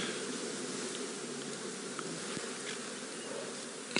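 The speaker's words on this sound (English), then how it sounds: "look at that swarm of flies" A dense swarm of flies buzzes steadily and close around a fresh buffalo kill in the African bush, a continuous droning hum lasting the whole stretch.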